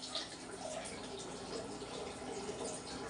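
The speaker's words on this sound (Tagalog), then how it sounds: "Tapos tatapon ko yan." Water poured out of a container of tubifex worms during rinsing, a steady, even rush of liquid throughout with no voices.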